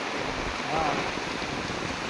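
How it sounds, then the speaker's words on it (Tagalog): Heavy typhoon rain and strong floodwater on a flooded highway in Sorsogon, a dense steady roar of rain and rushing water with wind, constant and loud throughout. "Grabe ang ulan, grabe ang lakas."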